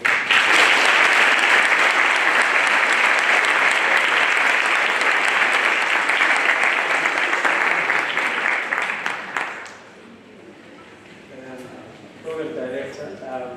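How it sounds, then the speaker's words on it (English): Loud, dense audience applause fills an inauguration ceremony for sub-structures, holding steady for about nine seconds before dropping away into quieter room sound and a faint voice. "I would just like us to give them a thunderous round of applause for all of them."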